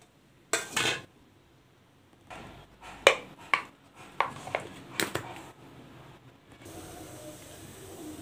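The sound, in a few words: grinding masala of curry leaves, coriander and green chillies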